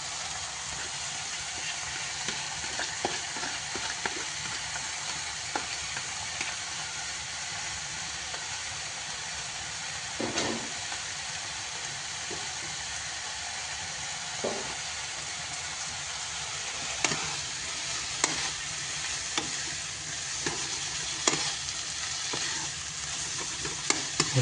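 Lardons and chestnuts sizzle steadily in a hot pan while being stirred, a continuous frying hiss broken by occasional scrapes and clacks of the utensil, with no talk.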